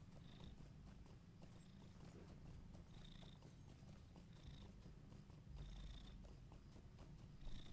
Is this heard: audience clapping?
no